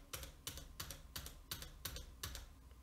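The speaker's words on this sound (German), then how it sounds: "Das können wir jetzt auch nochmal testen, indem ich mal auf die Tastatur rumklimpere." A computer keyboard is typed on in a steady run of seven clattering bursts, evenly spaced and close, captured by a USB microphone, with no voices.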